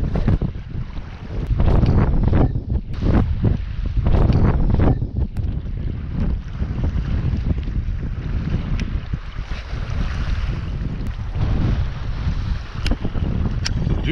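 Strong wind buffeting a microphone on a fishing boat out on the water: continuous low rumbling gusts that swell and ease, loud and close, with no talk.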